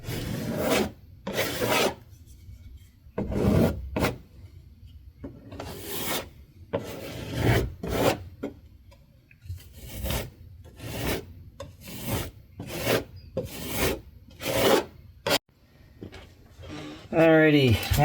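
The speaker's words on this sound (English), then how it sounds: "Work the spackle in all directions to fill any gaps and divots." A putty knife scrapes and spreads spackle back and forth over a hole in a hollow-core bedroom door, with repeated close, gritty rasping strokes in an irregular rhythm while a person talks over the work.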